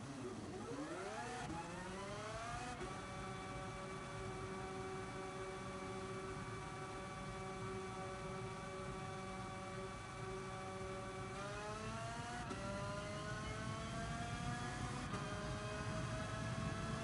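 Racing kart engines in Gran Turismo Sport drone steadily with layered harmonic whine, rising in pitch as they accelerate, holding a sustained high rev, then climbing again near the end; loud and continuous, no talk.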